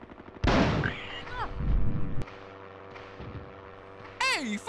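Gunfire in the Hogs of War video game: a loud burst of shots followed by a softer report and whooshing, whistling game effects, with a sharp whistle-like sound near the end.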